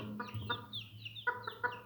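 A village chicken clucks in short, soft bursts, a few quick clucks, a pause, then several more, close by and quiet.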